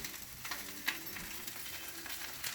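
Salmon with walnut pesto cooks in butter over low heat, giving off a soft, steady sizzle that stays quiet and even throughout, with no talking.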